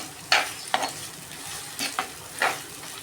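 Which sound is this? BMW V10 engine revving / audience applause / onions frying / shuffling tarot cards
onions frying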